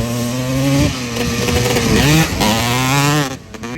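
A Honda TRX250R ATV with a freshly rebuilt top end runs loud and close, its two-stroke engine buzzing and revving up and down in sharp bursts before dropping off at the end.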